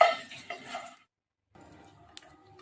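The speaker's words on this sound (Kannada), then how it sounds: "ಇದನ್ನು ಚೆನ್ನಾಗಿ ಹುರ್ಕೊಂಡು ಒಂದು 5 ನಿಮಿಷ ಲೋ ಫ್ಲೇಮಲ್ಲಿ ಹುರ್ಕೋತೀನಿ ನಾನು ಇದನ್ನು" Almonds being dry roasted without oil in a wide pan, stirred with a few clinks and scraping rattles, then a near silent pause before a faint rustle and one sharp tap, heard up close.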